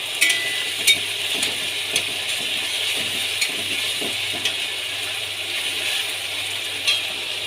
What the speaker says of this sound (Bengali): পেঁয়াজটা কিছু সময় ভাজবো। আদা রসুন পেস্ট একসাথে দিয়ে দেবো। কিছু সময় এটা নাড়তে থাকবো।